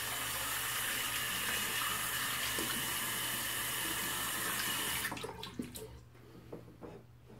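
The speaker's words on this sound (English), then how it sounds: "Let me rinse my hands real fast." Tap water runs steadily into a sink as hands are rinsed, a constant close hiss that cuts off after about five seconds, leaving a few faint drips and clatters.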